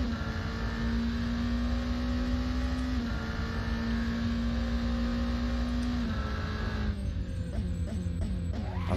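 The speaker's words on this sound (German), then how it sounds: "Zweiten Gang auch Vollgas geben. Boah, das Geräusch." A race car in the Assetto Corsa racing game revs at full throttle in second gear, a loud steady engine drone that climbs through several upshifts with no talking.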